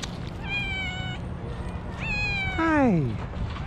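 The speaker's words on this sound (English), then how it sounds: "Lenny, meow." A pet cat meows indoors several times, the calls rising and sliding down, the last one long and descending, heard over a steady background hum with no words spoken.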